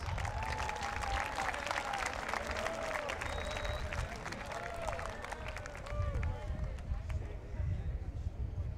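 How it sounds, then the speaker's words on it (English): A crowd applauds a folklorico dance group at a school event, steady dense clapping mixed with crowd noise, shouts and whistles that stay loud across the whole stretch. "Let's give them a round of applause."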